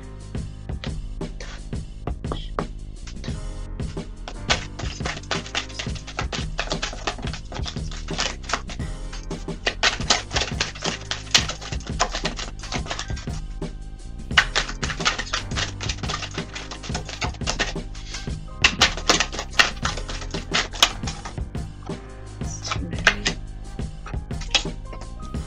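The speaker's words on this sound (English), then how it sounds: "I'm gonna do a quick shuffle, pull some cards" Tarot cards shuffled by hand in a quick run of dense, crisp flicks and riffles, close and fairly loud, with short pauses between bursts and no talking.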